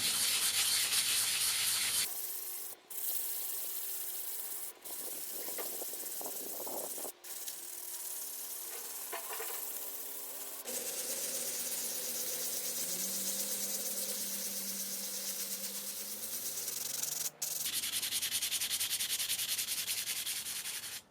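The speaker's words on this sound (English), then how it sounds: "So I'm just going to kind of start sanding here" Close scratchy rasping of hand sanding on a rusty, 100-year-old axe head, steady strokes broken by a few short pauses.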